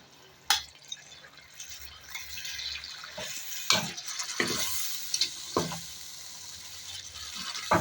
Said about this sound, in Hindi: कीमे को भी हम तकरीबन 8 से 10 मिनट तक इन मसालों में भूनेंगे